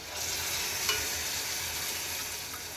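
Fried sweet gulabi pieces are stirred in sugar syrup, giving a soft, steady sizzling hiss with a single light clink, close and quiet.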